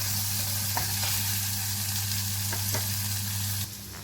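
Onions fry and are stirred in warm oil for a Lebanese mujadara, a loud, steady sizzle with a few soft scrapes of the stirring and a low hum beneath it.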